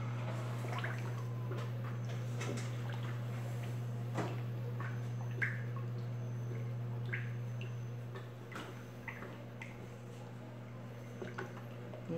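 Homemade mosaic bar soap mixture being stirred, giving soft, irregular wet ticks and squishy scrapes over a steady low hum, close and fairly quiet.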